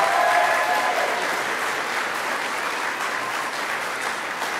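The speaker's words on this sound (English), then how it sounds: "Let's give Ms. Hernandez and her superstars a great round of applause." Steady applause fills a school cafeteria at a kindergarten celebration, loud and dense at first and holding evenly throughout, with no voices over it.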